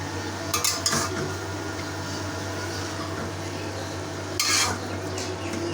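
Red amaranth greens with onion, green chili and salt stirred in a pan: two brief bursts of utensil scraping and clatter against the metal over a steady low hum and faint background sizzle.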